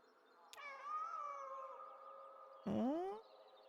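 A cat in the video game Kentucky Route Zero meows twice, first a long drawn-out call and then a sharper rising one, with no other sound around it.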